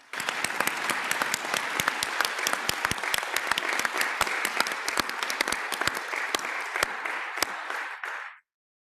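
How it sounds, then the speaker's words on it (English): Audience applause at a legal services organization's annual fall luncheon, many hands clapping steadily and loudly for several seconds before cutting off abruptly. "One more round of applause, please."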